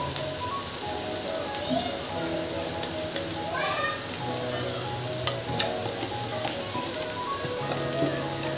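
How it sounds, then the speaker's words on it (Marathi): Homemade masala, red chilli powder, garam masala and turmeric sizzle and roast steadily in a hot pan while being stirred, a continuous close frying crackle with occasional scraping throughout. "मस्त हे आपले मसाले चांगले भाजून घेऊ आपण."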